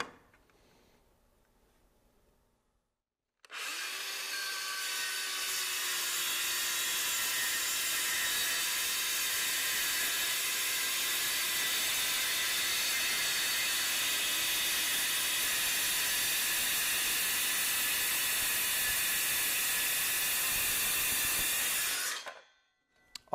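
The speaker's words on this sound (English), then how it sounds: "make your cut with your saw carefully and slowly" A power saw slices through a vinyl and aluminum pergola piece in one long, steady, loud hissing cut lasting most of the stretch, starting and stopping abruptly with quiet on either side.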